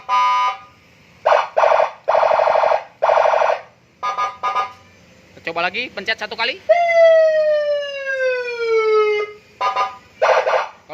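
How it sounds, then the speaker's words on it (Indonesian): A police escort motorcycle siren is switched on: loud bursts of electronic beeping, then a rising sweep that settles into a long, steady, slowly falling wail, before more short pulsed bursts. Someone talks between the tones. "Sekarang kita nyalakan untuk sirinenya."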